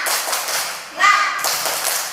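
A primary school class claps a short rhythmic spirit chant, with a burst of sharp claps near the middle and voices heard around them.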